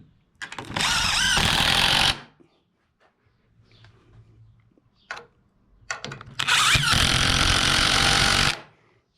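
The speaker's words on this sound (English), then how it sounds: "What I do is I pre-drill all my screws, toenail those." Two long bursts of loud, grinding power-drill noise close by, driving screws into wood for mobile home steps, separated by a quiet pause with faint background sounds and a brief knock.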